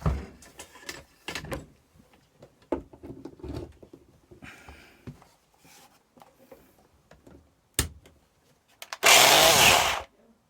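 A Bosch PDA100 orbital sander starts up and runs for about a second with a loud, dense whir, after a run of scattered knocks and handling clatter from the repair.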